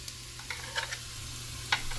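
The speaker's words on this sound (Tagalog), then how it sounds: "Mainit na yung kanyang uh, mantika. Hmm una muna ay luya." Ginger drops into hot cooking oil in a pan, giving a soft, even sizzle with a few light clinks and taps of a utensil over a low steady hum.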